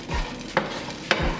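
Hazelnuts being stirred in a pan with a utensil, giving a couple of brief scraping strokes and light clicks over a quiet background sizzle.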